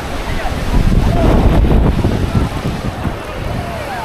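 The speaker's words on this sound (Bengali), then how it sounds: "দেখো বন্ধু, সমুদ্রের ঢেউটা দেখো" Sea waves rolling in at Digha beach, a broad loud wash of surf with heavy wind buffeting the microphone, swelling and fading over a few seconds.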